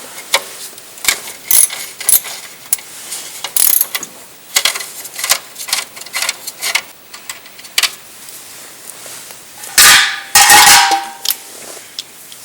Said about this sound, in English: Remove them with an 8mm socket and a ratchet, and remove the lower cover.